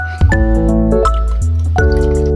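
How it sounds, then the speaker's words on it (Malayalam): Water pours and splashes into a vessel holding tamarind, a steady liquid gurgle that rises in pitch as the vessel fills, with a few clinks near the start. "നല്ല വെള്ളം ഒഴിച്ച് വെക്കും."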